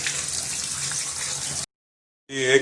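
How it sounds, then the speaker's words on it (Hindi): Cold tap water runs steadily over boiled green beans in a kitchen for about a second and a half, stops briefly, then gushes again at close range. "निकाल लेने के बाद इसको ठंडे पानी से वॉश कर लेंगे।"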